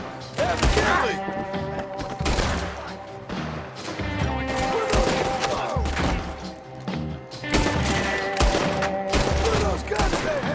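Heavy gunfire in the video game Red Dead Redemption 2, with dense overlapping shots and loud booming bursts throughout amid game music and clatter, while voices talk over the fight.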